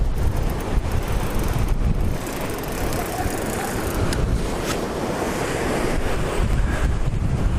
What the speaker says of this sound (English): The weather's really starting to get nasty now. It's blowing like crazy.